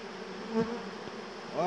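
Dense honey bees buzz steadily around an open hive frame, a continuous close hum with individual bees swelling louder as they pass near.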